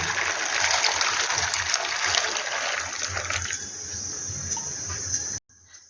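Green peas tumble into a pot of boiling water, a loud rushing, bubbling splash that gradually settles before cutting off abruptly.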